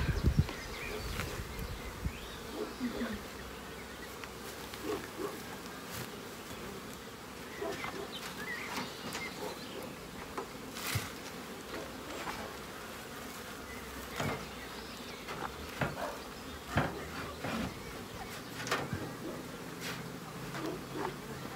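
Honeybees buzz around a beehive in a steady, close drone, with scattered sharper buzzes as individual bees fly near, and faint birds in the background.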